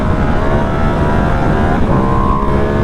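A 2025 Ducati Panigale V2S twin-cylinder motorcycle engine roaring loud and close under acceleration, a dense continuous drone with a rising pitch that climbs further toward the end, heavy wind rumble underneath.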